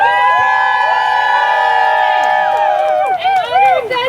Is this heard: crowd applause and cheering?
yes